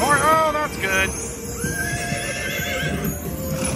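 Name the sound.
horse neighing sound effect from a slot machine game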